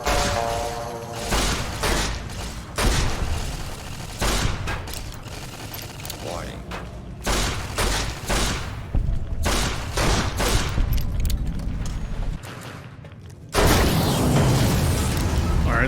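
Fallout: New Vegas combat with repeated gunfire and explosions as generators are destroyed: loud booming bursts and volleys come in irregular clusters, broken by brief lulls, with a heavy blast near the end.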